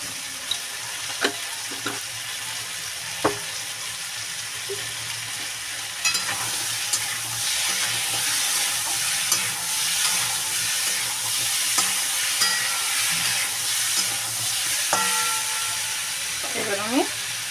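Vegetables with rui fish and bori stir-fry in a pan, a steady sizzle with occasional scrapes of a spatula, close and continuous, with faint talk in the background.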